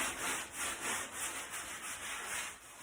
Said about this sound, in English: I've got a damp sponge that I'm going to just lightly go over and clean off my excess grout.